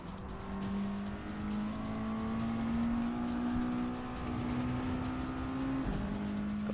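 Race car on racing tires in Gran Turismo 7, engine droning steadily with rising and falling pitch through corners, tires squealing under load, continuous and fairly loud.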